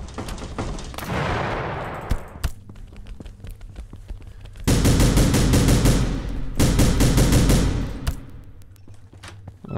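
Automatic gunfire in the video game The Final Station, sharp rapid bursts of shots and a booming explosion, loud and close, with clattering bursts returning in the latter half.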